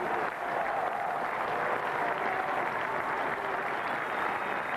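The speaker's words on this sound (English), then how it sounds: "A lot of applause." A cricket crowd at the 1992 England versus Pakistan Test at Old Trafford applauds a returning batsman walking out, a steady, distant-sounding wash of clapping that holds evenly throughout.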